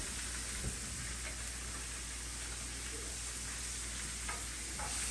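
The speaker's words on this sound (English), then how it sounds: "sizzle, sizzle in the kitchen. All right, we're gonna let that fry for a bit." Chicken fries in a pan with a steady, close hiss of sizzling oil and faint scattered pops, continuous and without talk.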